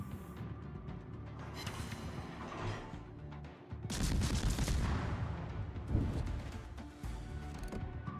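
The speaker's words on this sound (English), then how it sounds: "And some nice shots over the island here, considering I've got only partial sight on the ship." Naval gunfire from warships in World of Warships, with heavy booming salvos and crashing impacts layered over a continuous rumble, a loud burst around the middle standing out from the steady battle din.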